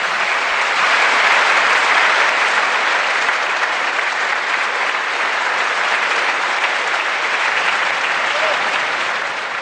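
Sustained applause from a large audience at a pre-primary school graduation ceremony, dense and steady clapping that fills the whole stretch at close range and eases off only slightly near the end.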